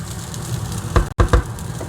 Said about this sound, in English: I love the sizzling sound whilst cooking.